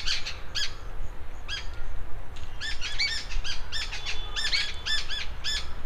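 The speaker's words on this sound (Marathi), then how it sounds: "आणि एक छान किलबिलाट सुरू आहे." Birds chirp and twitter in the evening, with bright, quick calls arriving in clusters and overlapping phrases over a steady low outdoor rumble, fairly close and lively.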